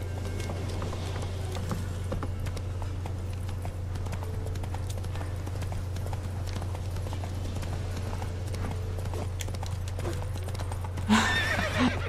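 Horse in The Witcher 3 video game, hooves clip-clopping steadily at moderate volume under a constant low hum, with a brief louder burst near the end.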